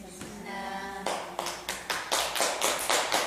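Applause breaks out from an audience at a Buddhist temple dharma talk, starting as a few scattered claps and building into fuller, denser clapping that carries on to the end.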